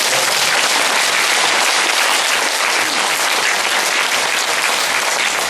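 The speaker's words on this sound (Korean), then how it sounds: "네, 박수." Sustained, dense applause from an audience at a Buddhist meditation discussion, loud and even throughout with no talking.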